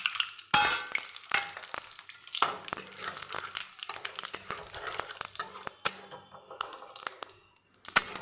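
Bay leaves, dried chili and white cumin sizzling in hot oil, a close, crackling fry broken by sharp pops and spatters, with no talking.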